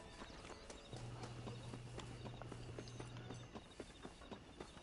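Horse hooves clip-clop at a steady walking rhythm in the video game Red Dead, a run of moderately loud hoofbeats over a continuous low hum and game ambience.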